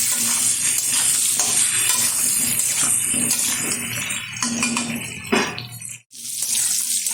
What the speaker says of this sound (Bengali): লবণটা দিয়ে আমি খুব ভালোভাবে আলুটা ভেজে নেব তেলের সাথে।